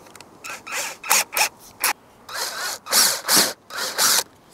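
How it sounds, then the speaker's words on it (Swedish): A power drill bores down through a wooden guide block that steers the bit, heard as repeated short bursts of drilling and gaps, fairly close and loud, with no talking. "Och sen använder man den här och så borrar man ner."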